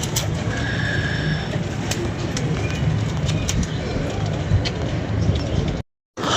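A flock of homing pigeons kept by a fancier cooing and flapping as they fly in and out, a dense continuous rustle of wings and soft coos close by, with faint clicks and no speech.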